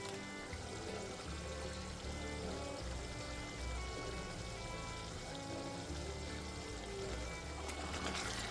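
Coconut milk is poured into a pot of boiling kappa (tapioca) for Kerala-style paal kappa, giving a steady, soft, continuous rushing pour with low bubbling underneath and no talk.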